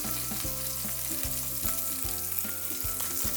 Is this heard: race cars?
no